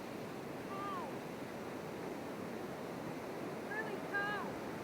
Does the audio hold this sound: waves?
yes